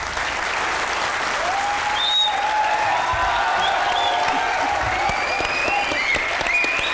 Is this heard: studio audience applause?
yes